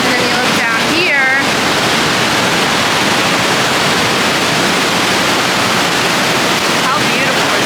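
Fresh, blue mountain meltwater flows below rock walls near Lake Como in Italy, a loud, dense, continuous rushing wash, with a few faint whistling tones early on.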